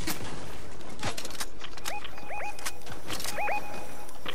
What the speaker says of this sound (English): Wait, I'm being shot.